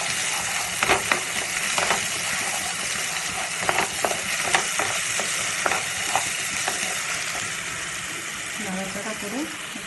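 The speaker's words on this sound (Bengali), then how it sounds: "এবার নাড়াচাড়া করুন।" Moong dal tadka being stirred in a pan, a steady sizzle with scattered scraping clicks of the spoon throughout, close and moderately loud.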